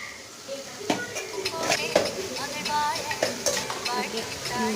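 Tomatoes sauté in a pan for a catla fish curry, with spoon scrapes and clinks against the pan over a soft sizzle, close by, while someone talks throughout.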